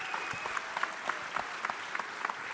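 The crowd at the 2021 Chicago Police Memorial Foundation Valor Awards ceremony claps steadily in a room. Individual sharp claps poke through a continuous, moderately loud wash of applause.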